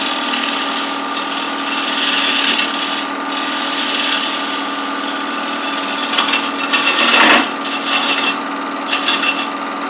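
A woodturning lathe with a hollowing tool lightly skimming the wood edge: a continuous scraping rasp over the steady hum of the spinning workpiece, swelling and easing in short passes, close and loud with no talk.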